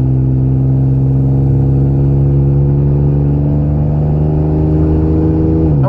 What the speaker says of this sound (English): My car is real loud.